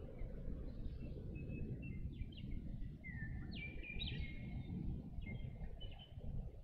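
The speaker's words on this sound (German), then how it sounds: "Krugi hat Sittiche, die nicht so gleichmäßig Geräusche machen" Pet parakeets chirping, with short thin calls scattered over a constant low rumble, moderately distant and faint.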